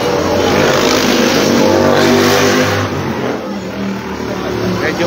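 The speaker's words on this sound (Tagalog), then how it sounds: "Medyo maingay dito dahil andito tayo sa tabi ng C5 Road. Ang iingay ng mga sasakyan dito sa Kataloyan." Road traffic roars steadily beside busy C5 Road in Kataloyan, a continuous loud wash of passing vehicles and engines with no clear gaps, close to the listener.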